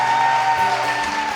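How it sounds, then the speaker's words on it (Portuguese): A church congregation applauds in steady, dense clapping that runs the full length, close and fairly loud, with faint cheering mixed in. "Aplauda Jesus."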